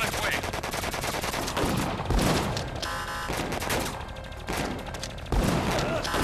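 Rapid bursts of rifle fire from the video game Disaster: Day of Crisis, loud and dense over a busy game soundtrack, with a few heavier shots standing out.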